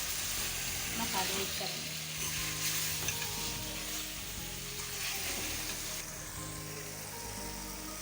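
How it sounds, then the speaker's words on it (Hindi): Chopped tomatoes frying with chicken in a karahi pan for dhaba-style chicken karahi, a steady close sizzle with occasional stirring clatter running throughout, as a voice talks briefly over it. "ये 400 ग्राम जो हमें टमाटर काट के रखे हैं ये हम इसमें ऐड करेंगे। तो थोड़ा सा फ्राई करने के बाद"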